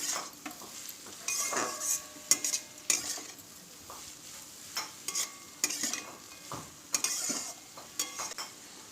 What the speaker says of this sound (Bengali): গাজরটা দিয়ে ভালো করে বাঁধাকপি আর পেঁয়াজের সঙ্গে মিশিয়ে নিচ্ছি